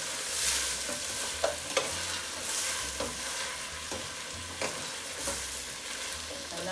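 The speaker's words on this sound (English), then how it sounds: "Okay, give it a little stir." Rice and onions sizzle together in a pan while a spoon stirs them, giving a steady frying hiss with periodic scraping strokes, close up and without talk.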